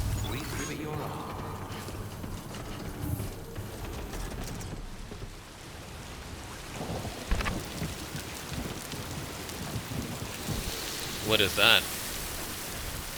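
Steady rainfall of Timefall in Death Stranding 2 hisses across the whole stretch, with a voice speaking briefly over it and a few sharper clatters near the end.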